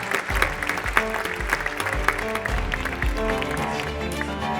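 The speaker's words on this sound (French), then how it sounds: "Bravo, on les applaudit." Sustained audience applause fills the room for the jury's favourite-prize winners, a forge workshop, at an award ceremony, holding steady and dense across the whole stretch.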